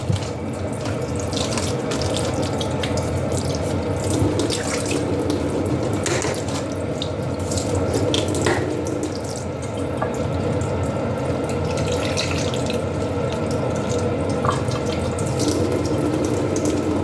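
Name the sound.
water running from a faucet filter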